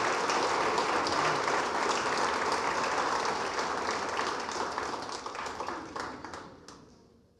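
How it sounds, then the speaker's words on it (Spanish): A church congregation applauds for the Lord during a sermon service, a dense, steady wash of many hands clapping that holds for several seconds before fading away at the end. "Démosle un aplauso al Señor."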